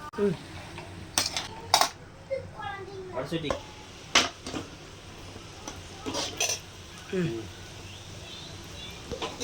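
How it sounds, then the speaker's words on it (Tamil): Egg noodles being tossed and stirred in a pan, heard as repeated metallic clatters and scrapes of utensils on the pan in uneven bursts over a faint sizzle, with a person talking throughout. "இப்போ இந்த எல்லா நூடுல்ஸுமே தூக்கி நம்ம போட்டுக்கலாம் போட்டு நல்லா கிண்டி"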